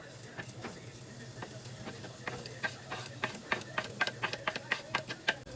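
Diced onions sizzle in hot olive oil in a skillet, a soft continuous crackle broken by sharper pops and spoon scrapes that grow busier toward the end.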